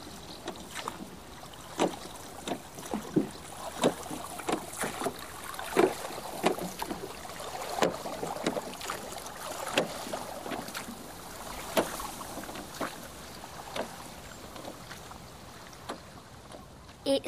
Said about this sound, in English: It's a rowing boat paddling across the boating lake.